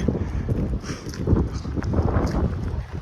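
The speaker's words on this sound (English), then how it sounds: "As you can hear, it's getting windy out here" Wind gusts steadily outdoors at a floral showcase in Niagara Falls, a close, rumbling buffet across the microphone that rises and falls without pause.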